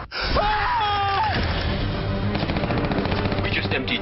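Guns fire in a film, rapid automatic bursts layered with gasps and a wavering cry, loud and dense throughout.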